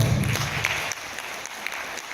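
An audience at a network-marketing seminar gives brief, moderate applause, a steady patter of claps with no standout voices.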